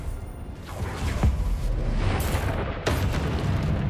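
A Confringo fire spell explosion in the game Hogwarts Legacy, a loud booming blast with sharp pops and a rumbling roar sustained throughout, close and heavy.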